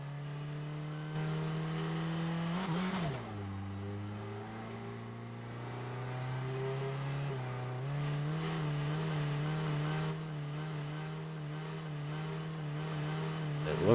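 Diesel truck engine in the Drive Beyond Horizons driving game, labouring up an incline with a steady droning note that dips briefly before settling and rising again, loud and continuous throughout.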